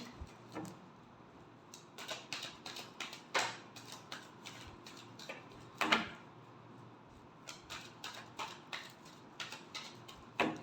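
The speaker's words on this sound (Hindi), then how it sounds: "last shuffle" Tarot cards being shuffled by hand in a quiet room, a series of crisp riffling bursts and soft taps in irregular clusters, close and fairly faint, with no talking.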